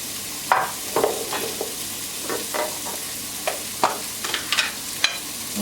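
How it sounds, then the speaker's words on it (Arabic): Onions sizzle and fry in the same pan used for chicken thighs, with a steady sizzle under scattered scraping and stirring clatters from a utensil, close up and no talking. "بنفس المقلاة راح نضيف البصل اللي عندنا"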